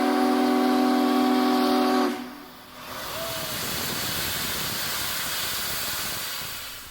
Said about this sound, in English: 4014 is the world's largest operating steam locomotive